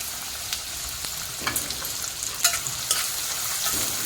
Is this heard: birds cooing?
no